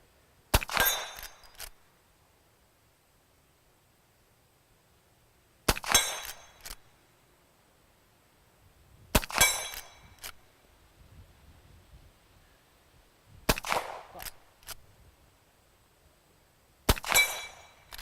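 Rossi 1892 Winchester reproduction lever-action rifle firing smoky cowboy loads outdoors: five sharp, loud shots spaced several seconds apart, each with a brief echoing tail and faint rustling between.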